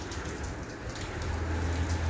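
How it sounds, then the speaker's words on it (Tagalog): Steady rain falls outdoors in Riyadh, Saudi Arabia, in the early morning, a continuous close wash of drops over a low hum that grows slightly fuller toward the end. "maulan"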